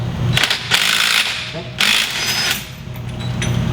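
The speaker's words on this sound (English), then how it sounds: "we're going to just go and use an impact to remove the main bolt" An impact wrench loosens the main clutch bolt on a Polaris RZR, letting out loud, close rattling bursts of hammering with short gaps between them.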